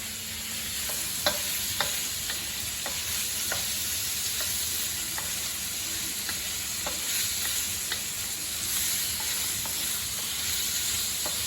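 Prawns sizzling in a hot pan, a steady bright hiss with regular clinks of stirring scattered throughout, close and continuous with no talking.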